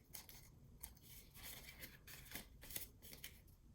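Large scissors snip through paper being trimmed for an embellishment book, a steady run of close, crisp cuts and rasping blade strokes repeating every fraction of a second.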